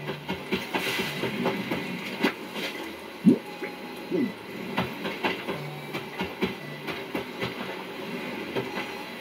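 A train passing by in Animal Crossing New Horizons: a steady rolling rumble with soft rhythmic clicks and a couple of brief squeaks, moderately close, heard alone without talk for several seconds.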